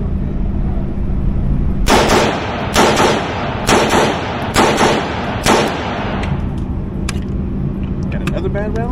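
Rifle shots from an AR fitted with an Armaspec Gen 4 SRS and a bolt extension, four loud, sharp reports spaced about a second apart at close range, outdoors, with some speech around them.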